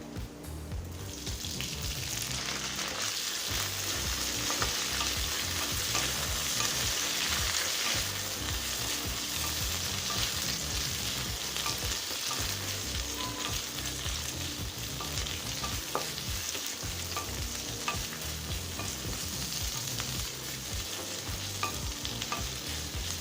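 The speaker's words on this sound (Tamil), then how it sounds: "கருவேப்பிலையை லேசாக வதக்கிக்கலாங்க." Garlic and curry leaves sizzle loudly in hot oil in a kadai, a dense, steady crackle with occasional light stirring taps running the whole time.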